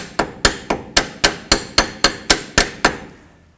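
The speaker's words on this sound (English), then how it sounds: "And then I'm going to snip that right there, and then hammer that down." About a dozen sharp metallic hammer strikes land in an even rhythm, ringing briefly and growing quieter toward the end, as a metal edge is hammered down while replacing tie rods on a 1984-2001 Jeep Cherokee.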